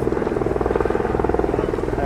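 A U.S. Black Hawk helicopter flies in low overhead, its rotor blades thudding in a fast, even pulse over a loud, steady engine drone.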